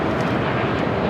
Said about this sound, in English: This is United 1260 taking off to Denver on a 787-9 Dreamliner.